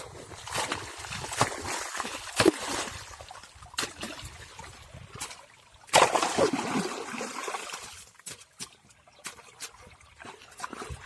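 Water pours and trickles into a flooded paddy field, a steady splashing flow with a few louder surges and a quieter stretch near the end.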